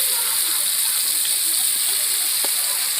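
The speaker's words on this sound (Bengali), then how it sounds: "ফুলকপিটা আমি ভেজে নেব। ফুলকপিটাও কিন্তু ওরকমভাবে আলুর মতো করে লাল লাল করে ভেজে নিতে হবে।" Cauliflower pieces fry in hot oil in a pan, giving off a continuous loud sizzling hiss with small crackles and pops scattered through it.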